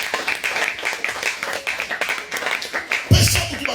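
A church congregation claps loudly for the Lord, a dense run of fast, uneven hand claps with voices mixed in, ending in a louder burst.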